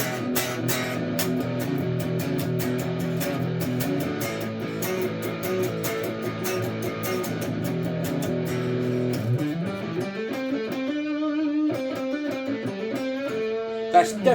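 A modified Gibson Slash signature electric guitar played through distortion with a muddy, dark tone, strummed chords and single notes ringing steadily, then shifting into a higher melodic line with sustained bends.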